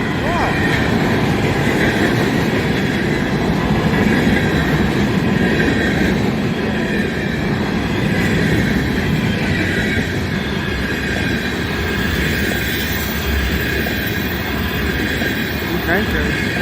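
A CN freight train hauling tank cars rolls past in Michigan, a loud steady rumble of wheels and wagons with faint squeals and rail clatter throughout, with occasional voices nearby.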